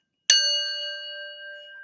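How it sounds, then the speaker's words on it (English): A single bell struck once, its sharp metallic attack followed by a long, clear ringing tone that slowly fades, heard alone and nearby. "ring the bell again"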